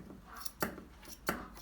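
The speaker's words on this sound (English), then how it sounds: "You could either use straight scissors. You can cut straight across" Straight scissors trimming a dog's fur during basic grooming, with two crisp, close snips about half a second apart and fainter small clicks of the blades between them.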